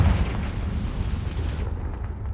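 A Confringo fire-blast spell in a Harry Potter video game goes off as a loud, deep, rumbling explosion that roars on for about a second and a half, then drops off sharply, with no voices.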